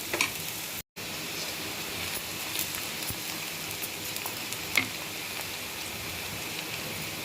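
Onion and garlic fry in a pan for a leafy-greens palya, giving a steady, dense sizzle that runs almost unbroken for the whole stretch, with one brief dropout near the start and no voices.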